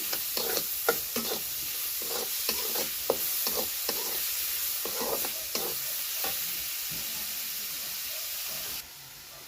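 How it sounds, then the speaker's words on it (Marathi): Onions sautéed in a pan until reddish, with a bright sizzle broken by repeated rhythmic scrapes of a spoon stirring close by, easing off near the end, with no voices. "कांदा आहे ना चांगला लालसर होईपर्यंत परतून घ्यायचा आहे"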